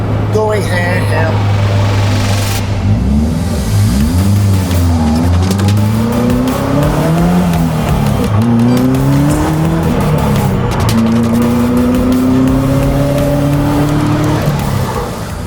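Caterham Roadsport race car at Circuit Zandvoort, engine revving loudly and rising and falling through gear changes as it races past, with tire squeal, continuous and close.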